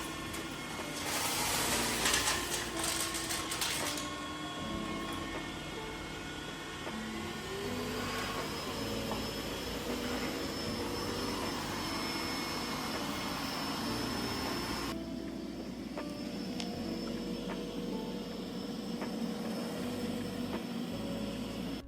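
Dreame X50 Ultra robot vacuum running with strong 20,000 Pa suction over a floor, a steady whirring motor hum with tonal whine and shifting brushing noise, fairly close and continuous, no talking.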